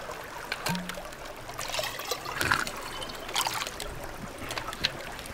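Water being filled in the Sons of the Forest video game, a soft intermittent trickle and splash with small gurgles and drips, faint and close, with no one talking.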